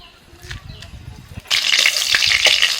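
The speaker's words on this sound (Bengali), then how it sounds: "ডিমের শাক চচ্চড়িতে ফোড়নে দিচ্ছি শুকনো লঙ্কা তেজপাতা আর পাঁচ ফোড়ন" Dried red chillies, bay leaf and five-spice seeds hit hot oil for a Bengali egg-greens chorchori, giving a sudden loud, steady sizzle and crackle after a quieter opening of faint stirring and a low voice.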